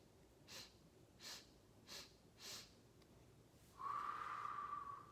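A woman imitates a bunny's breathing, with four or five quick, soft sniffing breaths in an even rhythm, a short pause, then one long, louder whooshing exhale, close and quiet.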